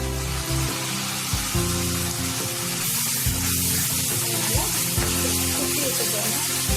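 Chopped tomatoes drop into frying Chettinad chicken, setting off a loud, steady, close sizzle that continues unbroken throughout.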